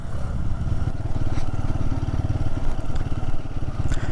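A Royal Enfield Guerrilla 450 motorcycle rolling down a steep mountain descent in gear, its engine giving a close, steady, loud rumble with a throbbing pulse and wind noise throughout.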